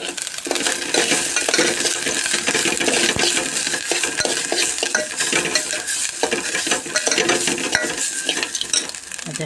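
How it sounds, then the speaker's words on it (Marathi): Fresh grated coconut dry-roasting in a pan, stirred continuously: steady scraping and soft crackling sizzle throughout, close and even, with no voices. "ह्याच्यात आता ओलं खोबरं घातलं, ते पण थोडंसं भाजून घ्यावं"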